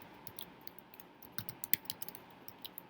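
Light, uneven tapping of keys on a computer keyboard, quiet and close, with scattered clicks and a few firmer keystrokes in a hushed room.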